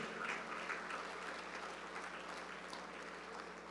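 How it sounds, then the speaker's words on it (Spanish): A church congregation applauds steadily throughout, a dense wash of clapping at moderate level with no voices above it. "dale un aplauso también a Dios"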